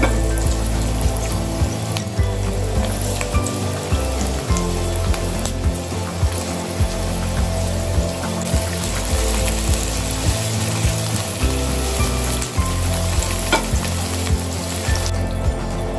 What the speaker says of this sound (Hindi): बस सब्जियों को हमने इतना ही सौते करना है।